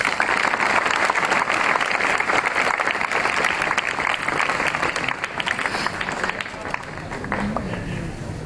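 Students and staff at a school retirement ceremony applaud vigorously in tribute, a dense, close clapping that stays strong before thinning slightly toward the end.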